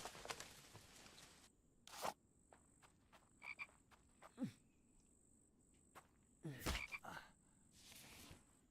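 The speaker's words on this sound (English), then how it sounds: "There's another frog over there." Sparse frog croaks sound from a quiet outdoor spot, with a few sharp louder calls standing out among faint insect chirps and rustling.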